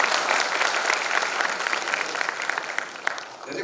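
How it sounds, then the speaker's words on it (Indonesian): Steady applause from an audience at a front-end web development tech talk, dense clapping sustained evenly throughout with no voices on top. "Boleh kasih tepuk tangan dulu sambil saya nunggu."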